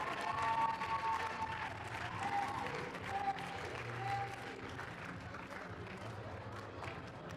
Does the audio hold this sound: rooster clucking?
no